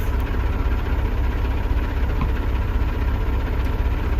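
Kaiser mower's engine running at a steady idle, a loud low rumble with constant vibration and no changes in speed, close by and alone.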